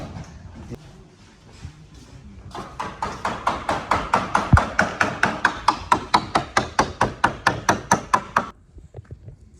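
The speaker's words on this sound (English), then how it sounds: "I'm getting the big hammer." Rapid, steady metallic banging from a big hammer during a Sling High Wing kit aircraft build, about three strikes per second for several seconds, loud and close, then stopping abruptly.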